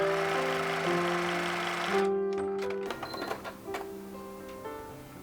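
Sewing machine stitching a patchwork and appliqué table runner, a steady close mechanical hum of running stitches that stops after about three seconds, leaving small clicks and fabric handling before the motor whirs again faintly.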